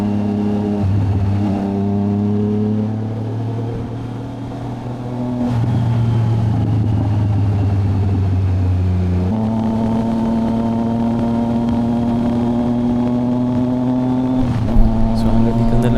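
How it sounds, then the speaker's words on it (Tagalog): A Triumph Trident 660 motorcycle engine drones steadily while riding near Tanay, with harmonic tones shifting as the rider changes gears and revs, loud and close throughout. "Kaya enjoyin nyo na lang muna yung tunog ng motor,"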